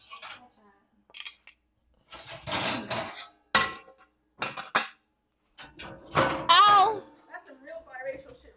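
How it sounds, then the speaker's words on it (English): Pots and pans clank and scrape in a kitchen cupboard while baking tres leches cupcakes, brief metallic knocks scattered between bursts of casual conversation. "Oh, yeah, I have pots and pans in here."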